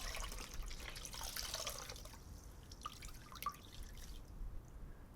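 Water dripping and trickling close up in a whispered medical roleplay, soft scattered drops and light splashes over a quiet hiss, faint and intimate with no talking.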